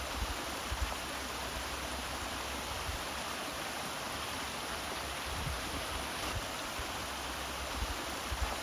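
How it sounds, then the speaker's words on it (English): Waterfall beside the Grinnell Glacier hiking trail in Glacier National Park in late September, a steady, full rush of falling water that continues unbroken and close throughout. "this is the second waterfall I'm passing"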